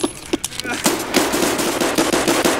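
Video game gunfire rattles out in loud, rapid automatic bursts, a quick run of close shots that continues almost without pause.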